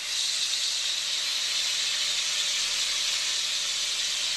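Bitter gourd slices with green chillies fry in a pan toward a red, crisp finish, giving a steady, loud, even hiss of sizzling oil that runs unbroken throughout, with no voices.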